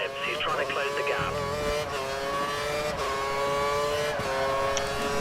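Sustained high-pitched whine of Formula 1 engines held at full revs in the F1 2013 video game, racing at India with a Lotus, steady and loud, with a rival car's note close behind and a voice talking over it.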